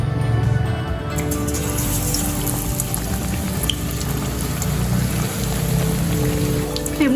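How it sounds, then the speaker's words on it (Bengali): Battered bread pakora stuffed slices frying in hot refined oil, a dense continuous bubbling sizzle close by, steady and loud with no voices. "এবার দেখুন এই ব্যাটারে আমি এই পাউরুটি ভরা পাউরুটিগুলো ডুবিয়ে তেলের মধ্যে দিয়ে দেবো"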